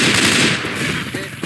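Rapid automatic gunfire from the video game Left 4 Dead 2 rattles loudly and continuously through the brief moment, close and dense.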